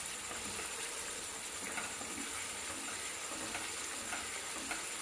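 A taro leaf and prawn mixture with coconut and slit green chillies sautés in a pan, a faint steady sizzle with soft stirring scrapes throughout, no talk.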